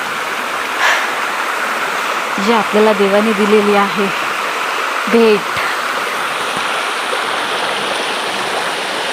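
Steady rushing water from a waterfall roars throughout, with a person speaking briefly over the constant wash.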